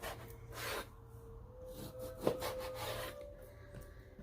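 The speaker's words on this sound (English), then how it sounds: "Then I'll cut big, thick slices off of it." Knife sawing back and forth through roast beef to cut big, thick slices, a quiet close rubbing rasp in several strokes.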